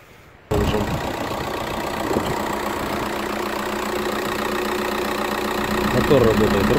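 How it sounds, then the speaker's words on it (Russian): A 1.9 CDTI diesel engine in an Opel Vectra C wagon starts cold and settles into a steady idle, a continuous rumble that stays even and fairly loud throughout. "Мотор работает ровно."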